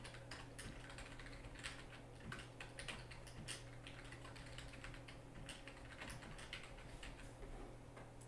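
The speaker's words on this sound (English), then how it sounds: "then type the caller's full name and request in this final comment section" Fingers type on a computer keyboard while entering caller details into a form, with quick, irregular key clicks in short bursts, quiet and close over a low steady hum, with no talking.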